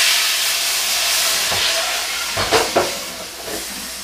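Hot, smoking caramel pan set in a kitchen sink: a broad, steady hiss of steam with a few short sputtering bursts near the end, and no talking.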